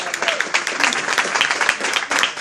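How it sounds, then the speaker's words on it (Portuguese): A church congregation claps together during a worship service, dense rhythmic applause close by and fairly loud for a couple of seconds. "Vamos aplaudir a Jesus?"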